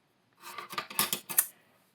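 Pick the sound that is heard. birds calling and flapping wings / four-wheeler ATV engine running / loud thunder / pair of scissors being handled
pair of scissors being handled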